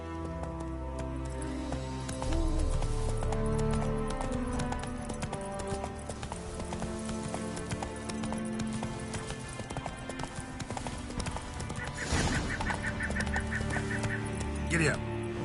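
Roach, the horse in The Witcher 3, gallops with rhythmic clip-clopping hooves under game music and ambient noise, steady and moderately loud, with a brief honking bird call near the end.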